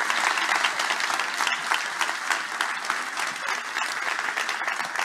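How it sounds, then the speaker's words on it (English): Sustained, lively applause for a panel at a human rights forum opening in a large UN venue, with many hands clapping densely and fairly close, steady for several seconds without speech. "Please give them a big round of applause."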